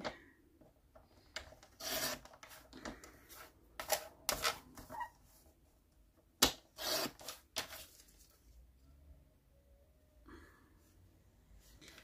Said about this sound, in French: Je vais juste redécouper un petit peu sur les côtés.